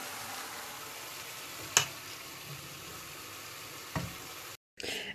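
Moroccan chebakia pastries fry in oil with a steady, close crackling sizzle, broken by a couple of sharp knocks and a brief cut near the end.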